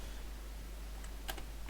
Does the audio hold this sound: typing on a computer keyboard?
yes